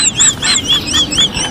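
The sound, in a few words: chickens squawking at feeding time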